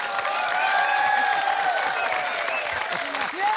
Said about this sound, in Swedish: Publikens jubel!